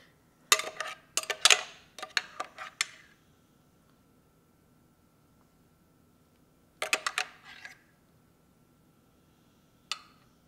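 A spoon scrapes and clinks against a dish while scooping ham and cheese out of egg bites cooked in a Ninja Foodi, a quick cluster of sharp metallic taps, a second burst after a pause, then one last clink, close and clear, no talk.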